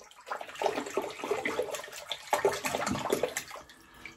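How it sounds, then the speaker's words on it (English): Water sloshing and splashing as a shaving brush is dipped and worked in it, a continuous wet swishing with small bursts, close and moderately loud, with no talk. "I'm going to get brush into water."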